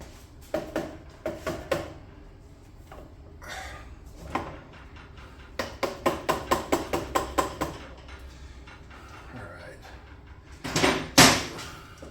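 Repeated sharp mallet knocks on a metal part of a 1968 BSA Thunderbolt 650 motorcycle, first a few spaced hits, then a quick run of about a dozen rhythmic taps, ending with a louder clanking burst.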